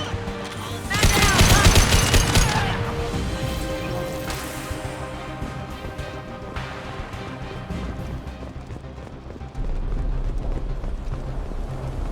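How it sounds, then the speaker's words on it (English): Heavy gunfire in a Mass Effect 2 firefight: a dense burst of rapid shots early on, then scattered bursts and booms continuing under the game's music and ambience. "Nice shooting!"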